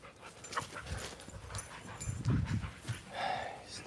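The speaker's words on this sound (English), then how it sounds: "These dogs are not supposed to be getting back here." Dogs pant and whimper close by at a golf lesson, with rapid breathy huffs and brief whines mixed with low background noise.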